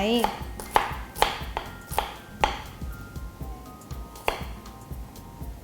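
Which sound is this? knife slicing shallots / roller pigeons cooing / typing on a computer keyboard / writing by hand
knife slicing shallots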